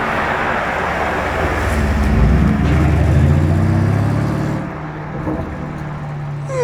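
A Lamborghini Urus SE passing close by outdoors, a loud low engine rumble swelling then easing away over steady traffic noise, with no talking.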